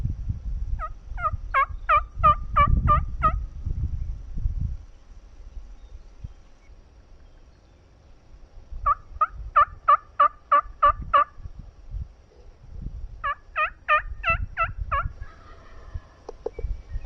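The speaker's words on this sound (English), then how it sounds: "I can tell he's down low from his quiet gobble" A Merriam's wild turkey gobbles down in a ravine in Nebraska, three rattling bursts, each a rapid run of notes. They come from a moderate distance and are spaced several seconds apart over low wind and rustling.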